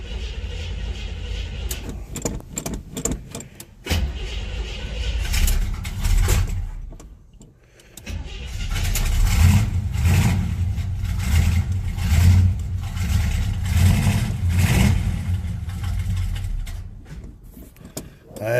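A Chevrolet Monte Carlo that runs poorly cranks and starts cold, with rough, uneven engine bursts, a brief dip, then sustained loud revving and idling up close.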